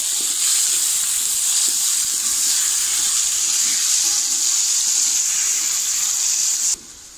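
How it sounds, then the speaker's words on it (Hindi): Sliced onions, three medium ones, sizzle steadily in hot oil for chicken kaleji pota pulao, a loud continuous hiss that holds even throughout, then drops away abruptly near the end. "ऑयल गर्म हो चुका है अब हम इसमें ऐड करेंगे प्याज"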